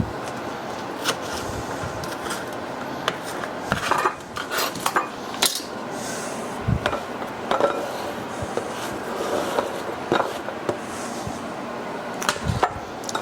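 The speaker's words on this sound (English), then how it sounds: "So I'm just going to kind of slice them this way and try not to cut myself." Cucumbers and tomatoes for a Greek cucumber tomato feta salad are sliced with a knife, making irregular close taps and knocks on a board with scattered clinks throughout, fairly quiet, with no talking.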